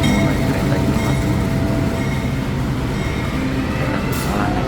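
Passenger train at a station in Java, Indonesia, a steady loud rumble of railway cars with a brief high squeal near the end and no talk over it.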